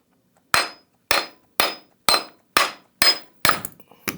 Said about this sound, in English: I just have a standard claw hammer, and we're just going to give a couple strikes on the bottom of the cylinder